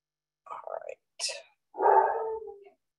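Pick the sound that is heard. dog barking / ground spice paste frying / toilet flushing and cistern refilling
dog barking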